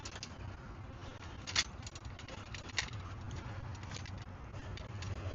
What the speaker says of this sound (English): Yeah, it's starting to rain now.